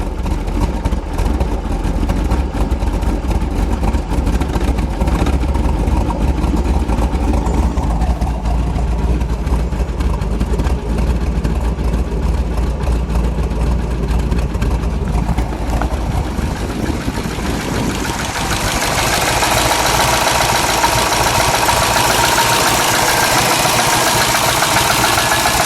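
A 1969 Ford Boss 429 Mustang V8 idles with a loud, lumpy, steady rumble close by, the engine note roughening and building slightly toward the end; no talking.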